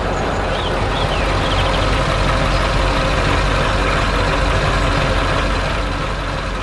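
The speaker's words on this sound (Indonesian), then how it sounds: "Truk kuning sedang bekerja keras di dekat rumah kuda merah." A yellow truck working hard near a red horse barn, lifting a large tree from soil and grass: a steady, loud, low engine drone with broadband rumble runs throughout, with no pauses.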